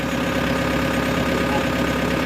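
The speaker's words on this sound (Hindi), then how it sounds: "ट्रैक्टर में वाइब्रेशन नहीं है, ट्रैक्टर स्टार्ट है।" A tractor engine runs close by at a steady, loud, low idle with an even rumble and vibration, holding constant and not revving up.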